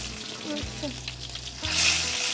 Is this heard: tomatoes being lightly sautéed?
yes